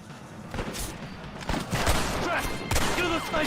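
Repeated gunfire at snipers in the western video game Red Dead Redemption, several loud cracking shots in an irregular volley, with voices faintly heard beneath the shooting.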